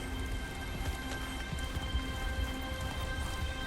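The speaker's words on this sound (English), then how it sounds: "It's hailing!" Hail falls in the icy Glacial Basin of the video game Subnautica Below Zero, a dense steady patter of pellets striking surfaces with a low rumble underneath, continuous and moderately loud with no talk.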